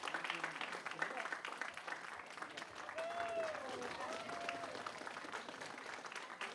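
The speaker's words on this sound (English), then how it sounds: "Give everyone a round of applause." Audience applause at a school spring instrumental concert, heard as a faint, steady wash of clapping from a crowd, with a voice speaking through it.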